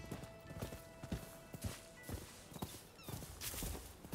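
Horse hooves clip-clop at a steady riding pace in the video game Rise of the Ronin, fairly faint and low in level against soft game ambience.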